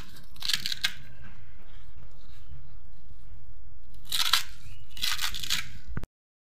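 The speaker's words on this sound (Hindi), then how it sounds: "तो धनिया और लहसुन की पत्ती को हम काट लेंगे।" Knife chopping fresh coriander and garlic leaves on a board in a home kitchen, two short bursts of crisp cuts separated by a quiet pause, close and fairly soft.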